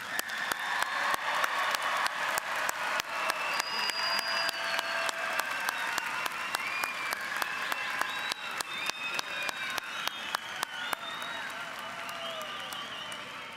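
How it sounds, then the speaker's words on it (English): A commencement crowd at University of Houston Clear Lake applauds its graduates. The clapping is sustained and fairly even for the whole stretch, with individual sharp claps standing out and faint chatter mixed in. "please join me in another round of applause for our graduates"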